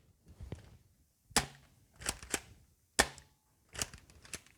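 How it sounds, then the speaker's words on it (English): Several sharp cap-gun-like pops from an AccuStrike blaster being fired, about five to six distinct cracks spaced irregularly with quiet gaps between them, close and fairly loud, no talking. "see if I can hit anything with this firing AccuStrike"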